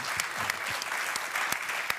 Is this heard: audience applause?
yes